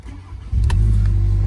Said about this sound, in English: The car sounds quite raspy on startup, as you can hear.